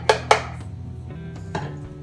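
Lasagna filling being mixed with Parmesan cheese in a bowl: two sharp clinks of a utensil against the bowl, then softer scraping and one more knock, close by and brief.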